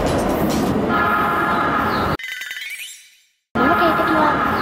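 A JR train horn sounds over rumbling rail noise on the Tokyo Metro Chiyoda Line, followed by a sudden cutout and the train noise resuming.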